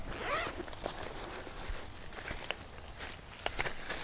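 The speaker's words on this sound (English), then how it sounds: "it comes in a nice little zipper bag here." Zipper pulled along a small carry bag for a Svbony SV501P beginner refractor telescope, giving several close rasping runs with fabric rustle between them and no voices.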